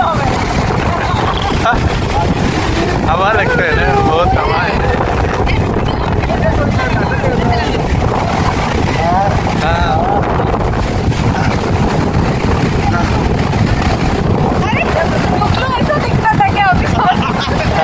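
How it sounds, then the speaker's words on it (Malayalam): Strong wind buffets the microphone at Digha beach on the Bay of Bengal, a steady loud roar throughout with a faint babble of voices and possible boat noise in the background. "ഇവിടെ ശക്തമായ കാറ്റ് മിക്കവാറുണ്ടെന്നാണ് പറയുന്നത്"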